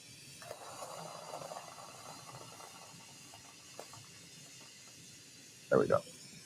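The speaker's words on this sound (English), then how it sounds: "Okay, we're going to get a little sizzle." Hot glass sizzles briefly during live glassblowing of Christmas ornaments: a short, sharp double burst near the end after a long stretch of quiet workshop hum.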